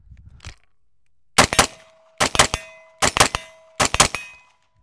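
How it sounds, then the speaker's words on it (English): First shots from a newly built IPSC/3-gun rifle, with five sharp, loud reports in quick spaced groups of doubled cracks and short ringing tails between silent gaps. "time to do the first rounds to this rifle"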